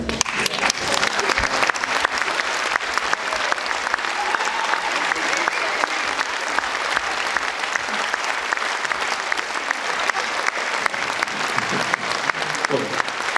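A festival audience at Festival Partances applauds after a film screening: sharp, dense clapping from many people, lasting over a dozen seconds at a steady, energetic level, with faint voices near the end.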